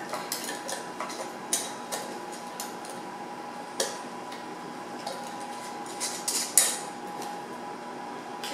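Metal lids and bands are screwed finger-tight onto glass canning jars of chipotle beef. Light clinks and clicks come close by at scattered moments, with no talking.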